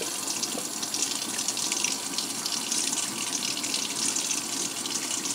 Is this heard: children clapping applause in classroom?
no